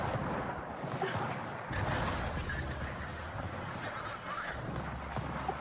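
Warship guns firing at the Scharnhorst in the naval battle game World of Warships: a steady roar of distant booming gunfire and rumbling blasts, dense and continuous throughout.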